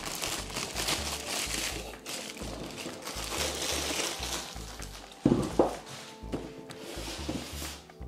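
Thin plastic foil crinkles and rustles around a boxed Mondo Man-At-Arms Masters of the Universe 1:6 scale action figure during unboxing, a steady close crackle with a few louder crunches, no talking.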